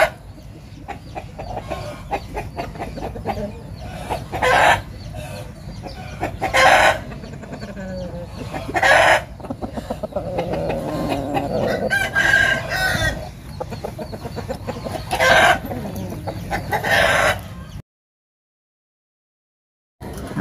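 Grey fighting roosters of about 2.7 kg, shown at a cockfowl farm in Vung Tau, crow repeatedly and loudly, roughly every two seconds, with steady clucking underneath; no one speaks.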